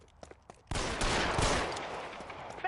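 Gunshots in an old-time detective drama, a loud volley of rapid shots that breaks in suddenly after brief quiet and then fades out, with a short voice at the end.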